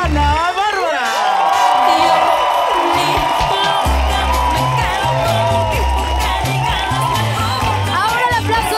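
A television studio audience applauds and cheers loudly for a singer, songwriter and producer, with whoops and shouts over steady clapping, music and a host's voice.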